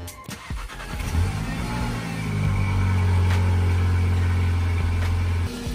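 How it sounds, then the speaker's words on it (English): A Volkswagen Passat engine with about 85,000 miles cranks and catches, then settles into a steady, loud low idle that holds for several seconds before cutting slightly. "So let's go ahead and start this beast."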